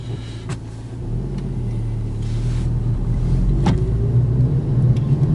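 A car with a Frankenturbo F23T turbo on a 2.0T FSI engine on stock tune drives around town near a school, its engine a steady low rumble that builds gradually, with some road and wind noise.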